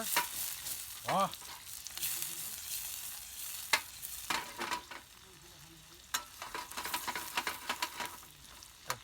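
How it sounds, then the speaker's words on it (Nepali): Onions sizzling in a pan for chili momo filling while a spatula scrapes and stirs intermittently, a few brief clatters standing out. "हल्का एकछिन फ्राई गर्ने रहेछ"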